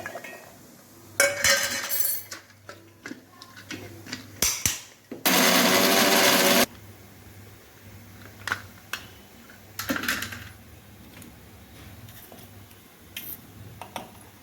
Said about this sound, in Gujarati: અત્યારે ટોપરું ક્રશ કરીશું.